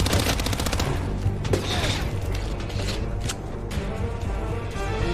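Gunshots from a handgun in Hitman 3, a quick rattling run of sharp reports at the start, then scattered clicks and mechanical clatter over a steady low hum of game sound.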